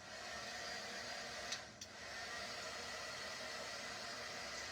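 A heat gun blasts hot air onto a transfer to dry it, giving a steady, close whooshing hiss with a brief dip and a couple of small knocks partway through.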